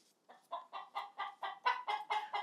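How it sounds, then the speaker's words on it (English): A hen clucks and squawks in a backyard chicken pen, a rapid series of about ten loud, close clucks rising in intensity with no talking. "I think she was telling off the other chicken."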